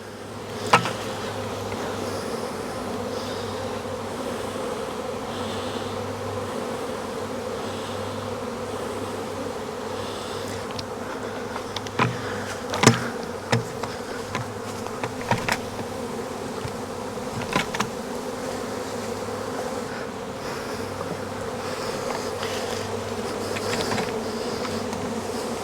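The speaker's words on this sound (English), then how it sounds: "Bucket of bees." A swarm of honey bees buzzing inside a bucket in an apiary, a dense continuous drone with a few knocks and bumps, close and steady throughout with no speech.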